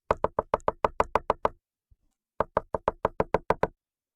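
Knocking on a villager's wooden door in a video game: two quick bursts of about ten crisp raps each, separated by a short pause, loud and close with no talking.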